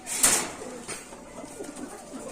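Pigeons at a pigeon market give a brief soft coo after a short sharp clatter, close by, with faint market background noise and no clear talk.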